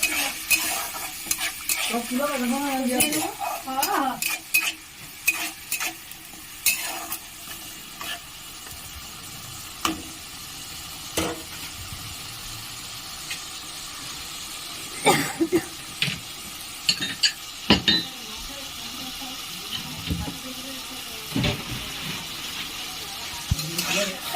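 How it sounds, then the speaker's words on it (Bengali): Tomato paste sautéed in a pan for a vegetarian bottle gourd kofta curry, a soft continuous sizzle broken by repeated sharp scraping and clattering of a spatula stirring it, close up. "ভালো করে কষিয়ে নেবো যাতে টমেটোর কাঁচা গন্ধটা না থাকে।"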